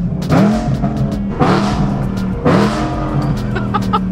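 A BMW E90 M3 with the S65 V8 engine revs loudly up close in three sharp, rising blips about a second apart. Each blip settles back to a throaty idle between the rises.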